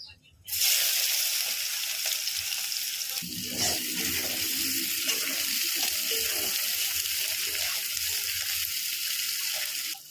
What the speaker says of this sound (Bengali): সাদা জিরে ফোড়ন দিচ্ছি